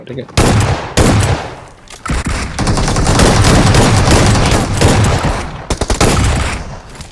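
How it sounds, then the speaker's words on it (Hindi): Loud, dense shotgun fire in the mobile shooter BGMI, with heavy blasts in quick bursts that nearly fill the whole stretch and a brief pause between volleys. "जैसे आपने देखा कि मैं अच्छी खासी शॉटगन चला लेता हूँ"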